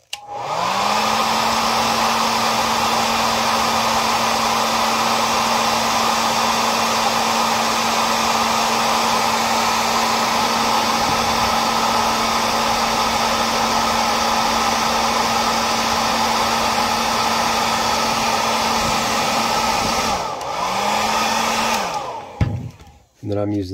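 A heat gun or hair dryer blows steadily while heating action figure hand joints, a loud continuous whooshing hum running for about twenty seconds before switching off briefly, restarting, then cutting out.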